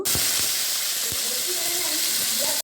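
Potatoes fry in white oil in a wok, giving a steady close hiss of sizzling with a few soft knocks, no talk.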